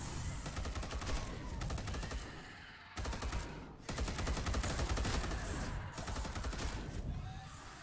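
Close quarter combat gun blasting in Space Hulk: Deathwing, rapid sustained bursts of heavy automatic fire with brief pauses between volleys, loud and close.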